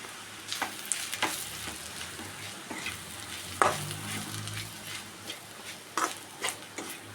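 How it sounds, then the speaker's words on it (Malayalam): A spoon stirs masala with pepper powder and chicken masala in a hot pan, giving an irregular run of scrapes and taps over a continuous close sizzle, with no talking. "നന്നായിട്ട് മിക്സാക്കി കൊടുക്കണം"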